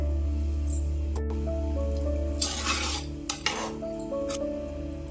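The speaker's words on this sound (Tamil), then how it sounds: "இது இஞ்சி பூண்டு அரைச்ச மிக்சி ஜார் தாங்க அதனால் அதில் தண்ணி ஊற்றி ஊற்றிக்கிறேன்" Water splashes in two short pours from a mixer jar, the one used to grind ginger and garlic, into chicken cooking in a pan. A steady kitchen hum runs underneath, with a few light clinks.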